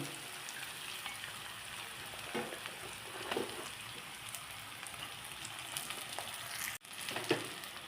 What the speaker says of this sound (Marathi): आता ही वांगी तेलात थोडी आपण परतून घेऊयात